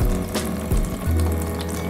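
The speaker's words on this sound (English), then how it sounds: "And it's all flowing right into that hole." Water from a push-button jug faucet pours steadily into a small camper van sink and gurgles down the drain, close and continuous with a low bubbling rumble.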